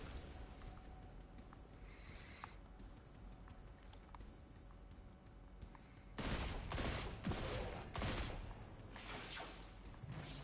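Rapid automatic gunfire in the Destiny 2 Lightfall video game, a dense, steady stream of shots under a constant noisy game backdrop, growing louder and fuller over the last few seconds.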